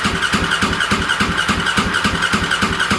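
Starter cranking on a long-stored motorcycle, fire button pressed with no throttle: a fast, steady rhythmic churning of repeated compression pulses, close and fairly loud, without catching, and no talking.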